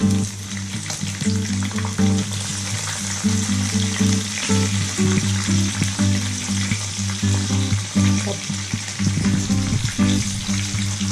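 Anchovies (ikan bilis) and other ingredients frying in a pan, a steady broad sizzle with stirring and occasional scraping throughout, a low hum underneath and a brief voice at the start.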